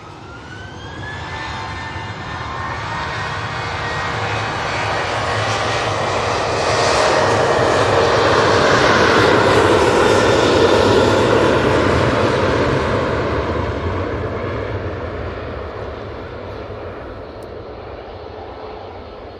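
A Dash turboprop airliner departs Manchester Airport for Birmingham, its engine roar swelling to a loud peak mid-way and then slowly easing off, heard alone with no talk.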